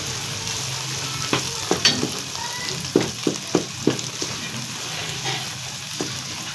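Turnip and pea gravy with tomatoes frying in a pan, a steady hiss of sizzling oil broken by a handful of sharp scrapes and clinks as a spoon stirs, no one speaking.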